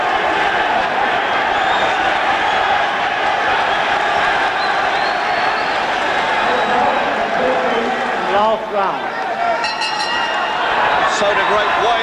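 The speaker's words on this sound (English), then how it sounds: "So do great waves of applause." Loud, sustained waves of applause and crowd noise fill a boxing arena during Minter versus Finnegan, a steady roar with cheering swelling briefly near the end.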